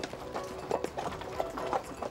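Horse hooves clip-clop in an uneven trotting rhythm, moderately close, with light background noise and no talk.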